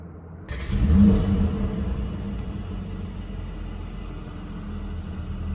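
A 2020 Mercedes-Benz GLC AMG Coupe engine fires up with a sudden burst, swelling briefly before settling into a steady idle rumble.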